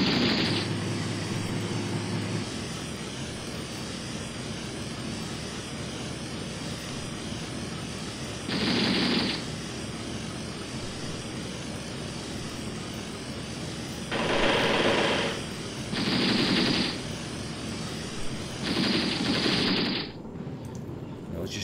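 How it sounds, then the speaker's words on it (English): Machine gun fire from a vehicle in Graviteam Tactics, the Shield of the Prophet war game expansion, comes in about five short, loud bursts spaced across a steady rumbling battlefield drone. "I don't know why he's firing the machine gun and not the turret gun."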